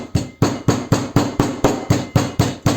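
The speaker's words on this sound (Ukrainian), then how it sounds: "ми беремо ці промиті баклажани і будемо їх просто відбивати" Washed eggplant slices pounded flat with a kitchen mallet, giving about ten evenly spaced, sharp thuds in a steady rhythm, close and fairly loud.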